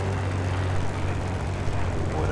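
A propeller plane engine drones steadily in the War Thunder video game, a continuous loud hum with a player talking over it.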